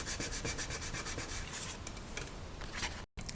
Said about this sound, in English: You just go through the grits, starting with the 400, and I'm going to work my way up until I get to the 8000.